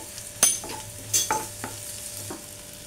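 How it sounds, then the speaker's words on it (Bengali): Garlic fries in a hot pan for a Bengali prawn malaikari, a soft continuous sizzle with a few distinct, loud scraping stirs at uneven intervals, close up and without voices. "এবার দেব রসুন। রসুনটা দিয়ে একটু নাড়তে হবে।"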